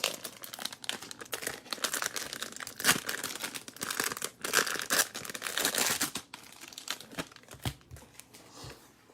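Allen and Ginter baseball card packs are torn open, giving continuous close crinkling and ripping of foil wrappers in quick bursts for about nine seconds, with no talking.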